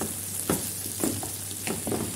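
Potatoes are stirred with spice powders in a pan over medium-low heat, giving a steady close sizzle with a few scraping strokes of the spoon roughly every half second. No one speaks.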